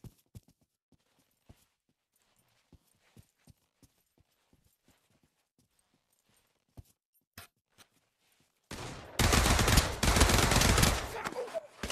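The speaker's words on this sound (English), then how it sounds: "He's shooting, bro." Gunfire in the VR video game Pavlov, a run of sparse, sharp single shots spread out at moderate loudness, followed by a loud, dense rushing burst near the end.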